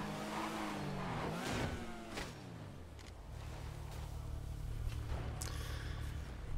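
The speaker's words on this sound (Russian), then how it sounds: "Но мотоцикл офигенский, сука, он так управляется. Он так хорошо разгоняется." A motorcycle in GTA 5 roleplay revs and accelerates, its engine note sweeping upward, then settling into a steady loud drone with some tire noise, alone without talk.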